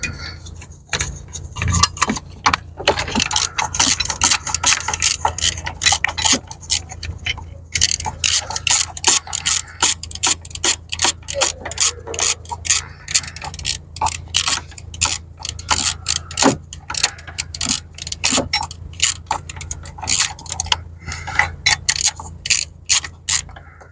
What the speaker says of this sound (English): So these are 8mm nuts, got an 8mm socket on it.